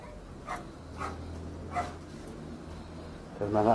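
A few sharp dog barks spaced apart over a low background hum, then a louder burst of yipping at the end.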